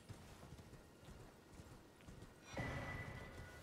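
A single horse's hooves clip-clop steadily on the ground in a dark fantasy open world, soft and fairly close, with a brighter swell of ambient sound near the end.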